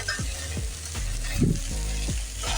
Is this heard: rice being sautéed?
yes